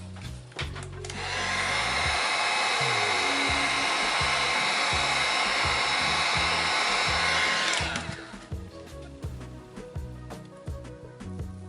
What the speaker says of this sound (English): I'm going to take my heat gun and I'm going to just run it across this to loosen this resin around these edges